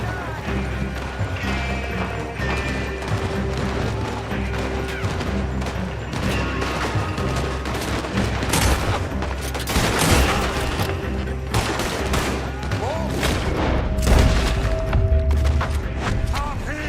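Heavy gunfire in Red Dead Redemption 2, a western shootout with repeated loud rifle and pistol shots, crashes and thuds layered over continuous background clatter and game music.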